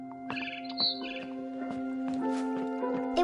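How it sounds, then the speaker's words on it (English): Bright barn swallow chirps from the video game What Remains of Edith Finch flicker over a sustained, tonal musical backing, a few quick calls scattered across the passage at moderate volume. "Then I heard chirping outside my window."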